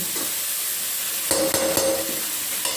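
Potatoes tipped into a pan of home-cooked sabzi and stirred in, giving a steady sizzle with a few distinct scraping clinks of the spoon against the pan partway through, close and fairly loud.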